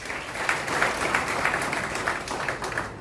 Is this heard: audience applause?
yes